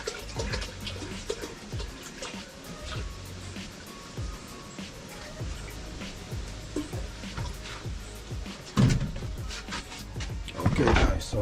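Water splashes and pours into a cooking pot on a stove in a makeshift outdoor kitchen, uneven gushes with clattering bursts near the end, while a voice talks faintly underneath.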